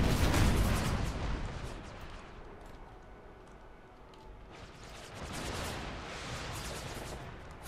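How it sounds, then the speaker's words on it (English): Cannon shells exploding on impact in the Empire: Total War American Civil War mod, a dense barrage of booming blasts and crackling fire that swells loud, eases off, then builds again with no talk over it. "All of the cannon shells, they explode on impact."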